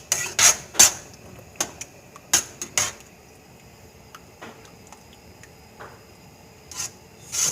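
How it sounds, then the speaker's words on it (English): A utensil scrapes and taps against a pan while spaghetti sauce is stirred, several sharp knocks early on and then lighter intermittent scraping, close and fairly quiet, with no talking. "Just stir that around."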